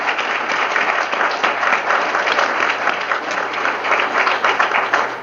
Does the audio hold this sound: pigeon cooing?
no